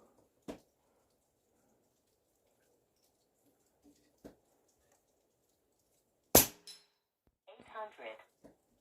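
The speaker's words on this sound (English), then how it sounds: "let's ring some big steel." A .22 Air Venturi Avenger PCP airgun fires pellets at a big thick steel target, giving several sharp isolated cracks and one loud ringing clang separated by silence, with brief quiet speech near the end.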